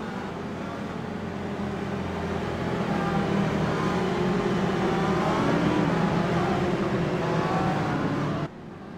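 Race car engines in a sim racing game at Mosport, a steady loud drone of several cars running together, rising slightly and holding before cutting off abruptly near the end.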